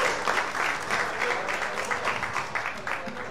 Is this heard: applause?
yes